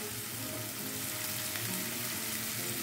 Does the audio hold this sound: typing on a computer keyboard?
no